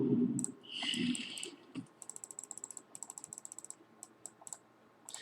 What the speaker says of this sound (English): Sorry if you hear the clicking.